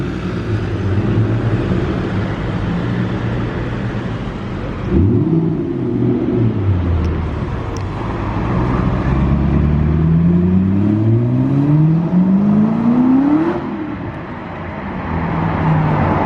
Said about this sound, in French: l'accélération, c'est rare de voir une Ford GT accélérée comme ça